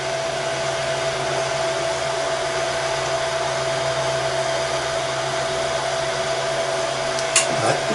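An old 3D printer hums steadily while printing PLA filament in two colours, a constant whir with a faint tonal whine, ending in a brief higher burst of motor movement.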